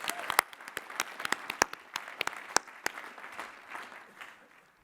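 Commencement audience applauding master's degree recipients at Lehigh University's spring ceremony, a crowd of clapping with sharp individual claps standing out near the front, tapering off toward the end.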